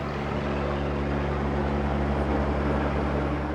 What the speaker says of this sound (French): L'hélicoptère livre cette lourde structure de bois, une terrasse monobloc de 700 kg